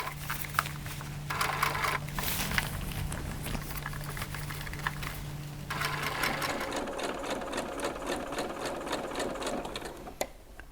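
Sewing machine stitching stretchy ultralight tent fabric for a two-person single-walled tent, a steady close mechanical whir with rapid needle patter running continuously, slowing and changing pace partway through, with no talk.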